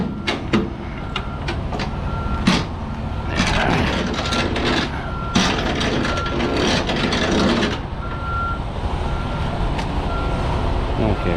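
Semi truck with trailer backing into a store loading dock, steady reversing beeps chirping repeatedly under rumbling engine and low, scattered clunks and thumps of the trailer.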